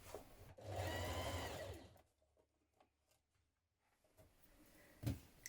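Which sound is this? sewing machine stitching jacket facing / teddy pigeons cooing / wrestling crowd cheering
sewing machine stitching jacket facing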